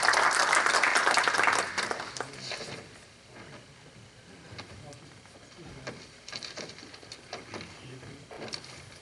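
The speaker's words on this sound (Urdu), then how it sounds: "تالیوں سے استقبال کیجیے جناب مبین خلیل صاحب" Audience applause at an Urdu Academy tribute gathering welcoming a guest, loud clapping at first that quickly fades into scattered lighter claps and room murmur, with a voice speaking over it.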